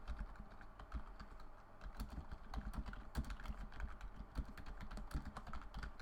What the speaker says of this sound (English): Listen to that typing.